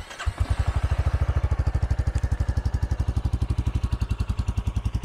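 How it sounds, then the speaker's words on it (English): A 2023 Royal Enfield Classic 350 single-cylinder motorcycle with fuel injection starts from cold and settles into idle: a brief starter whir, the engine catching, then a steady, close, thumping beat. "It starts right up, no messing with a carburetor."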